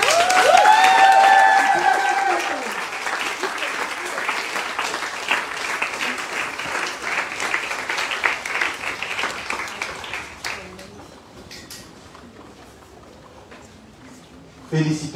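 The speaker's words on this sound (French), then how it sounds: "Un grand applaudissement." Wedding ceremony guests clap together in loud, steady applause that starts strong, with cheerful voices on top early on, then thins and fades toward the end before a brief final burst.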